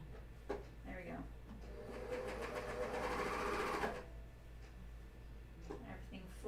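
A coverstitch machine runs over elastic and two fabric layers with thinner thread while sewing underwear, a steady close whirring that rises for a few seconds then stops, quiet and low in level.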